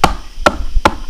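Three sharp, evenly spaced thumps ring out as a foot taps a homemade wooden stomp box, each hit punchy and close, with nothing else heard.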